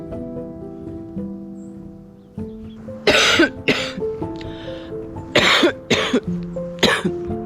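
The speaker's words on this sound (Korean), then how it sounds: "잔기침을 해요" A person gives several dry coughs in short bursts, close up, over a quiet background with a steady tonal hum.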